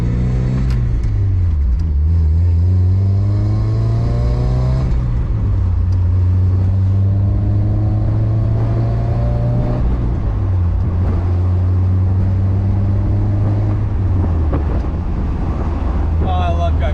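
A Mazda Miata engine hums steadily at close range, pitch rising and falling through gear changes, with road and wind rush throughout.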